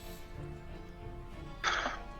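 A single loud, sharp cough bursts out near the end of a quiet indoor moment, standing alone against low background hum.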